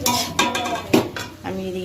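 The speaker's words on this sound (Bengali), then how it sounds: "মশলাটা এখানে ভাজা হতে হতে" Spices frying in a pan for a vetki fish curry, with fried cauliflower and potato added. A spoon scrapes and clatters against the pan in steady, close stirring strokes over a soft sizzle, with no one talking.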